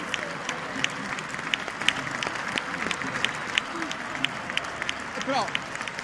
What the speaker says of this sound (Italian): Però fa l'applauso Reginaldo